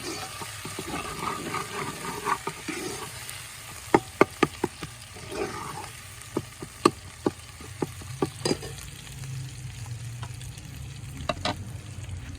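Garlic and ginger paste frying in a pan for chicken biryani: a soft, steady sizzle under a series of sharp scraping and stirring knocks of a utensil against the pan, fairly quiet and close.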